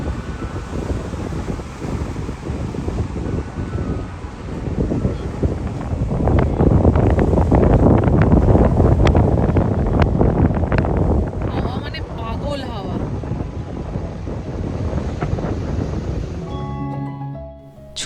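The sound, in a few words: strong wind at beach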